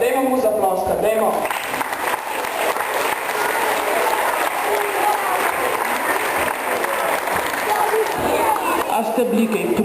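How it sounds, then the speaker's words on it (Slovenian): An audience of children and adults claps for Rudi, Santa's helper, at a school New Year event indoors. The applause is loud, steady and sustained, with voices mixed in. "Eto ga Rudija, dajmo mu zaploskati"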